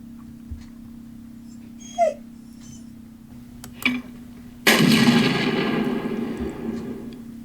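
A dog whimpers a few times, then lets out a louder bark or yelp that trails off into a longer noisy tail, heard alone without talk.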